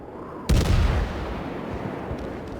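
HMS Emerald cruiser guns firing in a naval video game: one heavy, sharp boom that decays into a rumbling tail, followed by faint distant thuds.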